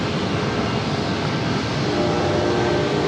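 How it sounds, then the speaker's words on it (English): A train rolls past close to San Diego airport, a loud, steady rumble of rail cars and wheels that fills the whole stretch without a break and with no voices. "We have a train."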